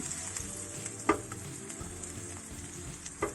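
Garlic frying in a wok for pad see ew, a steady soft sizzle throughout with a couple of brief scraping stirs, quiet and close, no talk.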